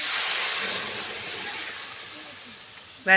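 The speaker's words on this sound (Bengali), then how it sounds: "এবার ডালটা আমি ঢেলে দেব" Boiled moong dal and water are poured into a hot pan, setting off a loud, steady hiss of steam that slowly fades. A brief clatter comes right at the end, and nobody talks.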